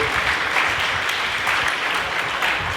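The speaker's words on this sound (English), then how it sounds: "So please give a big round of applause to all the panelists and the moderators." Audience at a technology and mobility panel event applauding the panelists and moderators: steady, dense clapping throughout, loud and close, with no talking.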